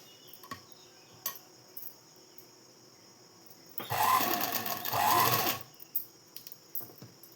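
A sewing machine runs in a loud burst of about two seconds while stitching a blouse neck piece, a close mechanical whir over a quiet room with faint clicks before and after.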